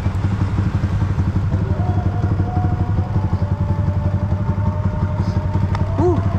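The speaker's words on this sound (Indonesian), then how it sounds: "Enak bener nih motor mah, bikin MX King." A Yamaha MX King motorcycle bored up to 180cc runs steadily while being ridden on a road under overcast skies, its engine throbbing loudly and continuously with a rapid pulsing beat.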